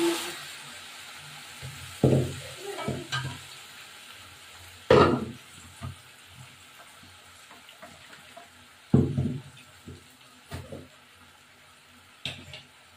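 Ground spices hit hot oil for mutton kasha, with ginger, garlic and onion paste, cumin and chillies; several sharp sizzling bursts flare loudly and fade, separated by quieter crackling.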